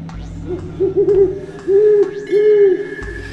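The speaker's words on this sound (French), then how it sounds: "Sergueï vit soudainement clairement un hibou" An owl hoots as a sound effect, giving several drawn-out, wavering low calls in a row over a steady low hum, loud and close, with no talking.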